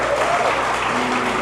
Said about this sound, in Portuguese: Vamos dar um aplauso para o irmão Carlos,